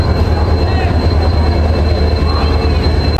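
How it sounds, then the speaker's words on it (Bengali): A train rolls into a railway platform with a loud, steady low rumble of wheels and carriages close by, and a faint thin tone runs above it. "চলুন ট্রেনটা ঢুকছে এখন।"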